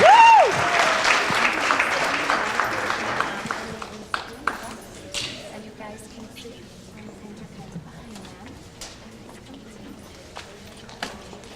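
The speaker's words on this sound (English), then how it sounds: "Let's give them a round of applause." Applause from the audience at a school board workshop meeting: a burst of clapping up close that fades over the first few seconds, leaving scattered claps, chair movement and quiet talk in the room.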